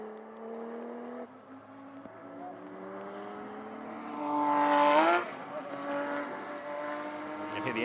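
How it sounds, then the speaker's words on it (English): GT race car engines at Kyalami whine and rise in pitch as traction is lost, with one sharp surge of revs midway, heard at a distance over a steady background drone. "You can hear the engine notes occasionally suddenly going up as traction is lost."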